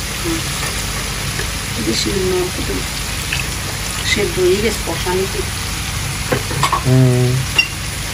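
Hot water hits a pan of frying bitter gourd and potatoes, and a loud, rain-like sizzle rises. A voice talks over the hiss, and clinks of stirring break through.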